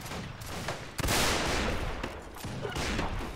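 Dense volleys of musket fire from infantry lines in the Civil War game North and South crackle continuously at close range, with a sharp loud burst about a third of the way in and overlapping shots throughout.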